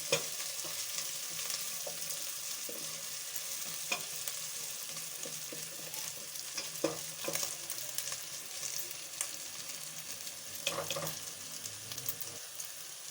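Ginger and garlic frying in a pan for an aloo baingan curry, a steady soft sizzle with occasional scrapes and clinks of stirring, close and moderately quiet, with no voices.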